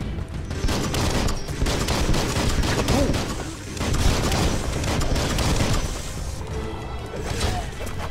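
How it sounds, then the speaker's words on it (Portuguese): A creature fires at the player in the Biomutant video game, a dense, continuous barrage of rapid gunshots and impacts lasting several seconds, loud and close, with brief dips in intensity. "Nossa, o bichinho tá atirando em mim"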